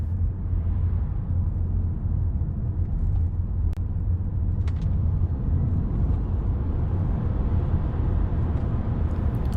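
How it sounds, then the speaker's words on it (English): A car accelerating hard to 60 in normal mode with full power delivered at once, a loud, steady low engine and road roar filling the whole stretch with no let-up. "We got to 60 in less than 4 seconds because the car gave us full power straight away"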